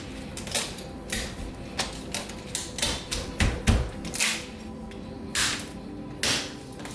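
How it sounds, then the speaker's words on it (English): A knife works through a whole turkey in a series of quick, crisp cutting and snapping strokes, irregular and close, with no talking. "and then just work that knife"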